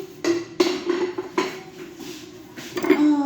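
Dishes, pots and pans being washed, heard as several close metallic clanks and knocks with clattering utensils and a short ringing rattle near the end, and no one speaking.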